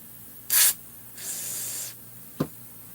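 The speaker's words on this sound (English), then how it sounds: "Brake cleaner." Brake cleaner sprayed onto a Homelite 266 chainsaw engine crankcase: a short loud aerosol burst, then a longer softer hiss of spray, followed by a brief sharp tap, all close up with no talking.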